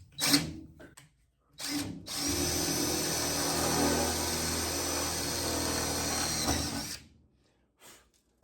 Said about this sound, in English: And drill one right in the center to start.